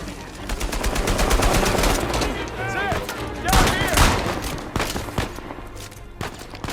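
AK-47 rifle fire in the video game Uncharted 4 combat, loud rapid bursts of automatic shots repeating across the clip, with scattered impacts and background game sounds between volleys.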